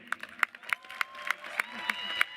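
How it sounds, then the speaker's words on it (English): Scattered, sharp hand claps ring out in a large open-air stadium as a Kenwood Academy high school commencement crowd welcomes Arne Duncan, with distant, thin applause under a faint hum. "Give a warm Kenwood welcome and a round of applause as we welcome Mr. Arnie Duncan."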